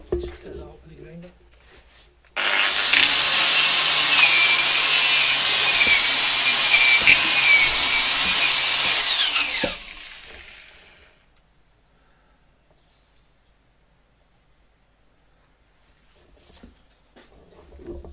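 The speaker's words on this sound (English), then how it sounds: "Just hit that up with the grinder." An angle grinder works metal during repairs to a David Brown 996 tractor's lift arm ball, a loud steady high whine running about seven seconds before it spins down, with quieter workshop sounds and a little talk around it.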